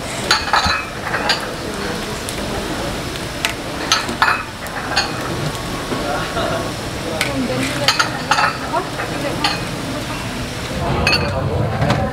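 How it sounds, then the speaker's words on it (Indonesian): Bakso goreng, fried Indonesian meatballs, sizzle steadily in a pan at a busy Bandung food stall, with scattered clinks of utensils and dishes throughout and people talking in the background. "Oh, bakso goreng."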